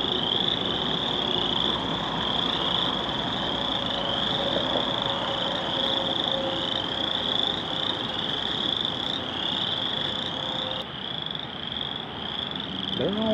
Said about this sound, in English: Listen to all the frogs.